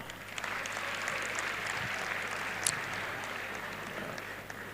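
Audience at a university convocation ceremony applauding softly and at a distance, a steady low wash of clapping with one brief louder spike midway.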